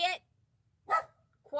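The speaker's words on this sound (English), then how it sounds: "I can't tell a story when you bark like that." A dog barks in two sharp bursts about a second apart, loud and close, with a third starting at the end, amid low background hum.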